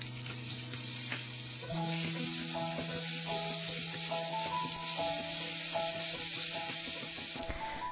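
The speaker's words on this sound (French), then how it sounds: "Mettre les cacahuètes, le douban jiang et le piment. Remuer pendant environ 1 minute." Peanuts, doubanjiang and chili sizzle loudly in a hot wok for kung pao chicken, a steady frying hiss broken by the clatter and scrape of stirring, close and continuous with no talk.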